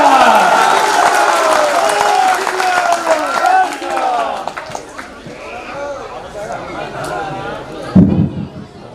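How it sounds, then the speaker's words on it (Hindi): Audience applause at a Ram Katha gathering after a ceremonial lamp lighting, loud and dense with cheering voices over it, thinning out toward the end, with a low thump near the close. "जोरदार तालियां।"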